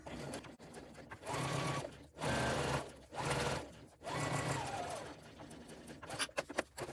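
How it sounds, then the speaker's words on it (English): A sewing machine stitches a straight seam along a fabric edge in several steady runs, its rapid mechanical whir starting and stopping with brief pauses between, close and fairly quiet. "I will just sew straight along using the edge of my presser foot"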